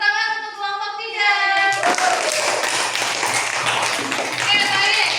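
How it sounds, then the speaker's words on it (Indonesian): Classroom clapping for a student group, a brief patter of hands that starts abruptly after a sustained tone and continues under a voice and room noise. "tepuk tangan untuk kelompok 3"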